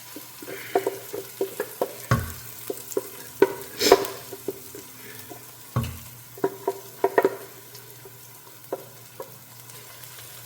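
Ground egusi melon seeds toasting in a pan are stirred with scraping and tapping strokes over a steady low sizzle, irregular and close, with no talk.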